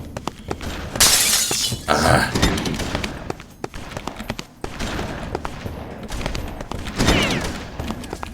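Rapid bursts of gunfire crack and clatter with glass-like shattering as an alarm is destroyed in the video game BloodRayne, loud and close, while a voice talks over the noise.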